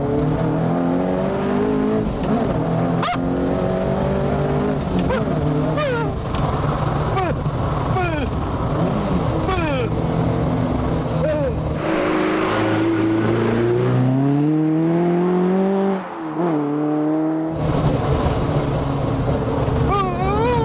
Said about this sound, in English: We need to do some beans in the Talbot Sunbeam Lotus.